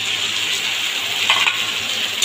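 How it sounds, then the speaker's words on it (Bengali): Tomato and ginger paste goes into potatoes and pointed gourd frying in oil, producing a continuous close sizzle with a brief louder crackle partway through and a light clink of a utensil near the end, no voices. "এই সময় দিয়ে দেবো আমি পেস্ট করে রাখা টমেটো আর আদাটা।"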